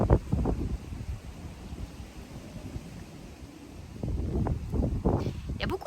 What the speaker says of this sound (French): Il y a beaucoup de vent aujourd'hui.